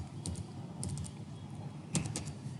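A computer keyboard is typed on in short bursts of quick, light key clicks with brief pauses between, close and fairly quiet, no talk.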